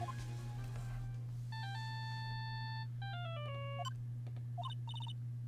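Electronic ringtone from the Phoenix Wright: Justice for All video game, a lost phone in the park ringing with a bright, repeating melodic chime of sustained tones and short descending phrases over a steady low game hum, with no talking.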